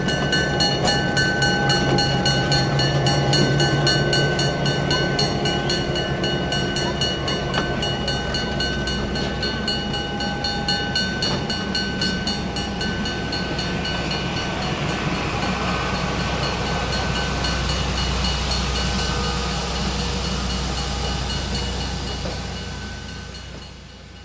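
Pan Am Railways GP35 and GP38 diesel locomotives haul a train past at steady close range, with a continuous loud engine drone, rolling wheel and rail noise, and faint clickety-clack that eases off near the end.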